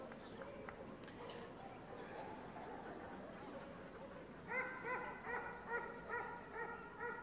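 Police dog barking in a display arena, repeated sharp barks in a steady rhythm in the later seconds, moderately distant, with background crowd and voices.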